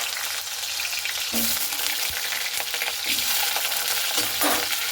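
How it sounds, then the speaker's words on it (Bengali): Cut potatoes frying in hot mustard oil, a loud continuous sizzle with bursts of crackling and a few stirring knocks, close and unbroken, no voices. "আলুটাকে খুব ভালো করে লাল লাল করে ভেজে নিতে হবে।"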